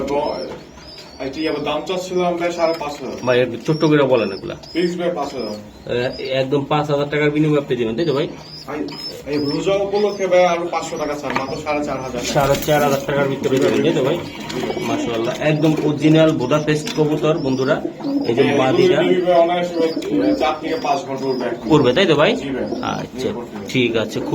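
Pigeons, including Budapest, racer, beauty homer and king breeds, coo repeatedly in soft throaty bursts, heard close while people talk almost continuously over them.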